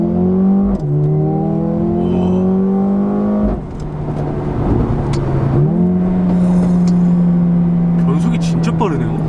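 A Mercedes A35 AMG in Sport Plus mode with its variable exhaust open revs hard through rapid gear changes. The engine note climbs, drops sharply at each shift and climbs again, loud and close, with an occasional exhaust crackle and talk over it.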